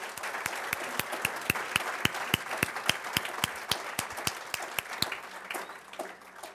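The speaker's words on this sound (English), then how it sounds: "Let's give everyone another round of applause." A crowd at a dean's list reception on a college campus claps together, with bright individual claps standing out over a steady bed of applause that eases off slightly near the end.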